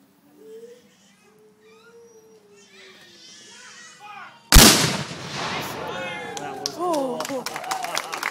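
A single deafening cannon blast from a half charge at Kennesaw Mountain battlefield cuts through quiet chatter, followed by echoing rumble and excited voices and cheering from a crowd nearby.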